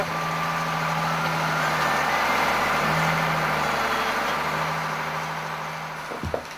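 A farm tractor engine runs steadily at a moderate distance, a low continuous drone that fades slightly near the end, followed by a couple of short knocks.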